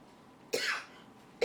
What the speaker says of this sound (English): That pepper making me cough.